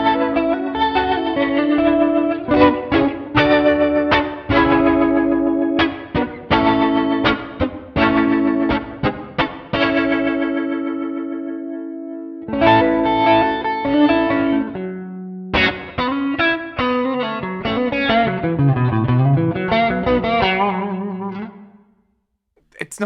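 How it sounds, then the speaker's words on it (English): Electric guitar through a Pocket POD's rotary speaker effect, its notes swirling and wobbling with a warbling chorus-like motion across riffs, sustained tones and bends. "Let's hear how the rotary sounds in this."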